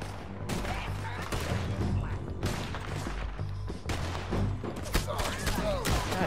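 Gunfire in the Western game Red Dead Redemption 2 comes as irregular bursts of sharp shots and thuds. Some shots are close and loud, others further off, with game noise between them.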